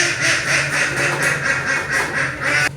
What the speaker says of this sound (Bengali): আর হাঁসটা তো আওয়াজ দিয়েছি।